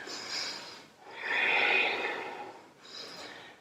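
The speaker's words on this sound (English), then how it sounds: "Couple of breaths." Slow, audible breaths during a hatha yoga flow: a soft inhale, a longer loud exhale through the nose, then another quieter breath, close and alone.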